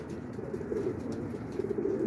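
Common pigeons coo steadily from a nearby rooftop, low repeated throaty calls rolling on continuously for the length of the moment with no voices over them.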